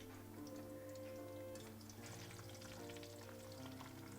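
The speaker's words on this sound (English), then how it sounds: "Okay, let that good sizzle. Let that sizzle well." Garlic fries in hot oil for a chili sauce, giving a steady, even sizzle that carries on throughout. Faint ticking and stirring sit underneath, and nobody speaks.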